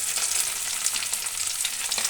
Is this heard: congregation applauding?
no